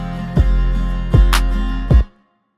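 A single sharp hip-hop clap sample cracks once over a looping 808 bass in an acoustic hip-hop beat, between booming low kicks, then the beat cuts off.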